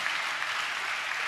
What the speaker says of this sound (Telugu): చప్పట్లు కొడుతూ స్తోత్రాలు చెప్దాం